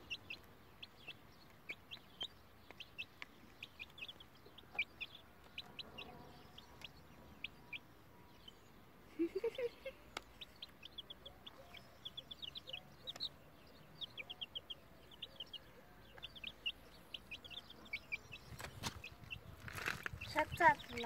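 Young chicks being kept and walked outdoors peep in faint, high, rapid chirps scattered throughout, with occasional soft clucks and small knocks in a quiet setting.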